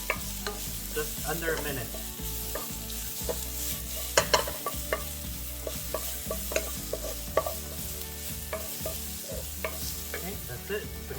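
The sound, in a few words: stir-frying green onions for vegan japchae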